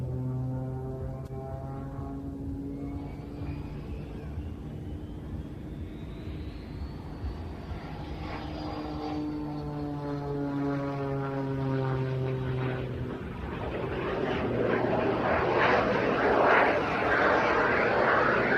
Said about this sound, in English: Watch the turbines. Watch. Pure turbine power. Hanging the aircraft there.